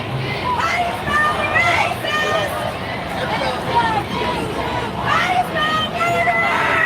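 A big crowd murmurs and chatters all around, a thick constant hubbub of overlapping voices with louder calls now and then, nearby and unbroken.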